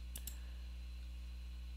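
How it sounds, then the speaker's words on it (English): A handheld presentation clicker gives two quick, faint clicks close together near the start, followed by a steady low hum with no talking. "my clicker's not clicking good."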